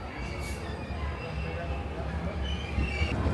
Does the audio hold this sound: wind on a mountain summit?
no